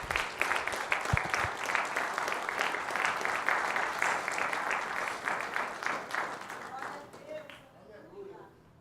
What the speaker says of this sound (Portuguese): Vamos aplaudir o Senhor, irmãos,